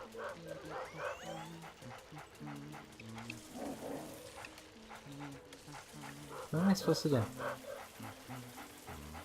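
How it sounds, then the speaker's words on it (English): A dog barks in the Luigi's Mansion video game, sounding under steady game music while people talk over it, with a louder burst near the end. "you wake the dog up"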